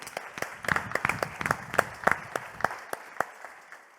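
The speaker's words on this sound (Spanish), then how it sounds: "Vamos a darles un aplauso." Applause from a church congregation at a service, a scatter of individual claps with sharp separate hits rather than a dense roar, moderately close and steady for a few seconds, with no talk over it.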